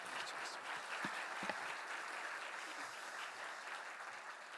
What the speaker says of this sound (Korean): 뜨거운 격려의 박수